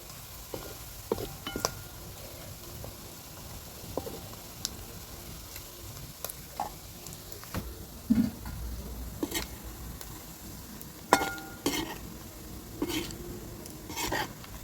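Beef frying in a pan for beef pickle, a low steady sizzle broken by scattered ticks and scrapes of a ladle, irregular clinks standing out now and then.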